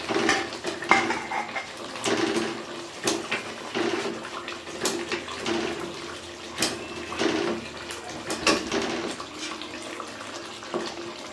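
A spoon stirs chicken gravy salan with kasuri methi in a pot, making repeated metallic scrapes and clinks against the pot's sides in an uneven rhythm. It sounds close and moderately loud, with a wet, sloshing undertone.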